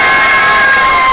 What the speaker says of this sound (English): I would tell you to go crazy and wild with applause